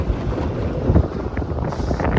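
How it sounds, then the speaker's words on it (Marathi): Strong gusty wind buffeting the microphone outdoors as a cyclone-like storm builds, a steady low rumble with louder gusts near one second, no voices. "एवढा वारा सुटला इकडे"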